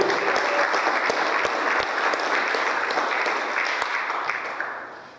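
A church congregation at a Christian service gives a strong, steady round of applause, many hands clapping together in a dense wash that holds evenly and then tapers off at the end.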